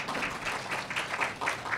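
Audience applause at a public talk, a steady patter of many hands clapping at moderate distance, continuous and even throughout with no speech over it.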